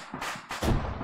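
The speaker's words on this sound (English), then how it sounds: "That was a big explosion." A loud, close explosion in the military shooter ARMA 3, two heavy blasts in quick succession with a deep low-end boom on the second, no talk over it.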